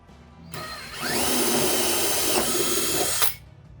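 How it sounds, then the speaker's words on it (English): A power drill drives a hole saw through a plastic bucket lid on a water barrel, a loud steady whine that grinds for about two seconds before cutting off, with no voices. "Now we're just gonna put our hole saw through it."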